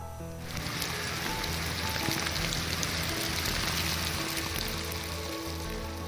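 Heavy downpour with strong wind in Rishikesh, a dense, steady hiss of rain hitting surfaces that starts abruptly and continues loud and unbroken throughout.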